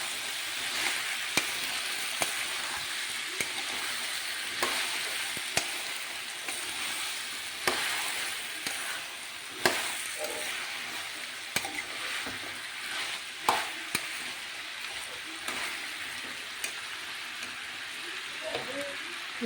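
Village-style sambroli gravy fries in a pan while being mixed, a constant hissing sizzle broken by sharp clacks of a spoon against the pan, close and steady throughout.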